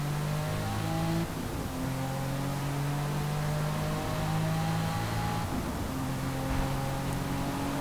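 Steady engine drone from a powerful race car in the Forza Motorsport video game, holding sustained tones that shift pitch with gear changes through a championship race, continuous and even in level with no talking.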